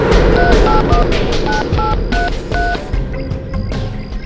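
A pay phone keypad sounds a quick run of short, distinct dialing tones, about ten beeps in an uneven rhythm, loud and close over a busy background rumble.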